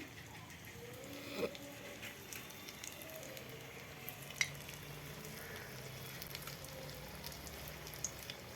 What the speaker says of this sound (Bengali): এরকম হালকা আঁচে ধীরে ধীরে ভাজতে হবে